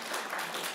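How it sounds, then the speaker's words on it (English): Brief burst of applause from the audience at a Minnesota committee hearing on housing and homelessness, a short dense patter of clapping in a room. "Unfortunately, we cannot have applause"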